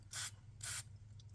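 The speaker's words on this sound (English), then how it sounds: "Just put it in this container here and spray it up real good." Short bursts of deoxidizer spray hit a guitar bridge sitting in a container, three quick hissing blasts in close succession, with no talking.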